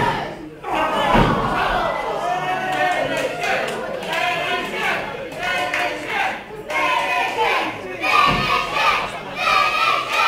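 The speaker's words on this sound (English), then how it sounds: "feeding off the applause of the audience like this" Wrestling crowd at a live show in Woodham Ferrers, loud sustained clapping, cheering and shouting that swells and dips throughout, with a commentator talking over it.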